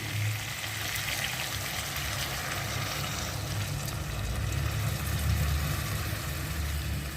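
Water pours steadily into a hot pan of potatoes mixed with turmeric, giving a continuous splashing hiss with a broadband sizzle for several seconds, close and fairly loud.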